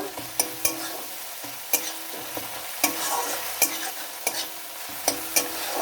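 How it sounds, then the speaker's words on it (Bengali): Garlic paste sizzling in hot oil as a spoon scrapes and stirs it through the pan, with about ten sharp clinks of utensil against metal over a steady frying hiss. No voices. "রসুন বাটা দিয়ে এবার একটু নাড়াচাড়া করে নেব।"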